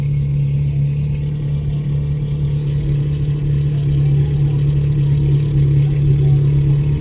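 A Ferrari engine on a busy Shibuya street in Tokyo, a loud, close, sustained deep engine drone that rises slightly toward the end.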